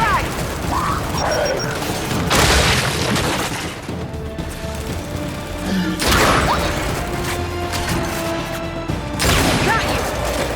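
Frag grenade blasts in the Gears 5 video game, with loud crashing bursts near 2.5, 6 and 9.5 seconds and mechanical clatter and rumble between them.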